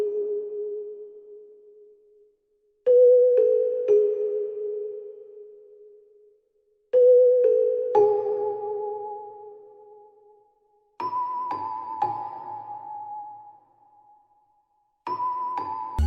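Simple synth melody from a Celestia celesta-style preset in FL Studio, for a dark orchestral trap beat: bell-like tones in four short phrases of a few notes each, each note ringing and fading, alone with no talk.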